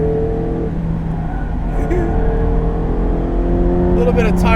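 A 2017 Mazda MX-5 Miata RF hardtop driven on a track gives a steady engine drone with shifting pitch and brief tire noise near the end, heard close from inside the car.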